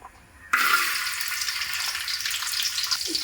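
Coconut pieces drop into hot ghee in a pan and burst into a loud, steady sizzle that holds for about three seconds after a quiet start, with a faint scrape near the end.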